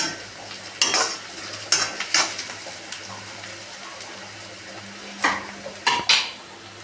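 Onions softening in a pan for a snake gourd and lentil sambar, stirred with a spoon in several sharp scraping bursts over a low steady sizzle.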